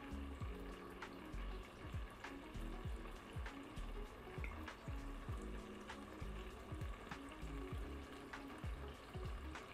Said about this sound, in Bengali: Medium low to medium হিটেই fry করতে হবে যাতে মাছটা পুড়ে না যায়।